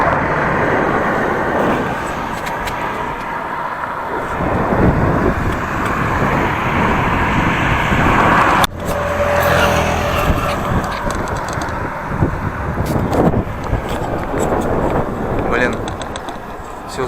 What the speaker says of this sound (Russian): Даже шлем снял, чтобы насладиться этим ветром.